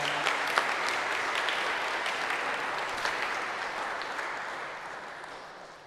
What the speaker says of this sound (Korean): 우리 다시 한번 박수로 격려하겠습니다.